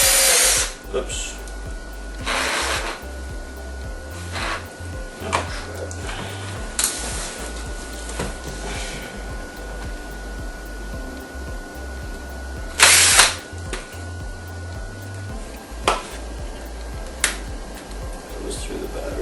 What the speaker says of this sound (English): So when you're drilling, you want to go slow and back out before you actually punch through